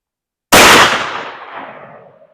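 A single .510 32 gauge Mr. Hollow Point slug fired from a shotgun at a range booms out loud and close, its blast decaying over about two seconds.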